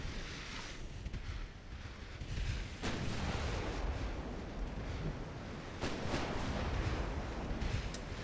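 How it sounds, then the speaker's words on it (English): Naval gunfire and a torpedo launch in World of Warships, heavy booms rolling under a continuous roar of wind and sea, with a few sharp reports standing out. "I think I heard a torpedo launch."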